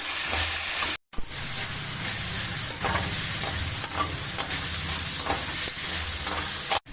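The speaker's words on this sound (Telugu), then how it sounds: "ఎర్రగా అయ్యేదాకా మంచిగా గోలించుకోవాలి" Onions with salt fry in a pan with a continuous loud sizzle while a spoon stirs and scrapes through them, and the sound cuts out briefly twice.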